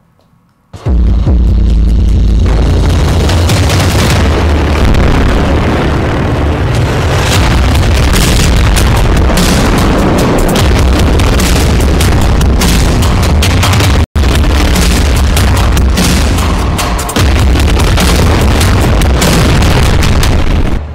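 Heavy 2,000 kg bombs exploding in Rafah, Gaza, as a loud, sustained roaring rumble packed with overlapping bursts and booms that barely let up for about twenty seconds, with no voices.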